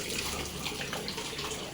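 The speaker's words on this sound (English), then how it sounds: "I put in a motor through that matka and made a fountain there" Water flows continuously in a small fountain driven by a motor inside a clay matka pot, a steady soft rushing trickle with no pauses.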